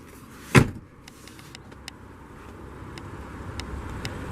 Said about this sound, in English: Up top, you can drop the seats down from right there